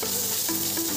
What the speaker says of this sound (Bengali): আর এখন একটু নাড়াচাড়া দিয়ে জল দিয়ে দেবো